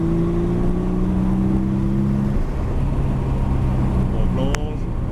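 Porsche accelerating on a race track, a loud close engine drone with rising and falling engine tones, then a brief shift and climb, while a voice speaks over it.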